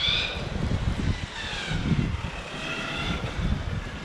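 Hobao Hyper 10SC RC short course truck with a 2400kv brushless motor on 4S power, running solo: a continuous high-pitched motor whine rising and falling in waves as the truck speeds up and passes, fairly close and steady.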